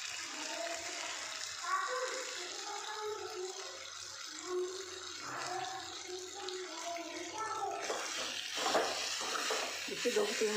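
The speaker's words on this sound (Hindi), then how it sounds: "इसको थोड़ा सा चलाना है 2 से 3 मिनट तक।" Arbi (taro) masala curry sizzles and fries steadily in a pan while a spoon stirs it, with scraping and stirring growing busier toward the end, close and moderately loud.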